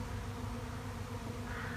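A late-October honeybee swarm produces a dense, steady buzzing hum that sounds close and continuous, with no voices over it.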